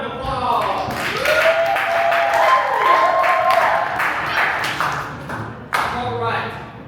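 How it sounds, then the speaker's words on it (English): An audience applauds at a live improv comedy show, clapping steadily under a sliding, whooping vocal sound, with a brief burst of louder claps near the end. "Give them a round of applause."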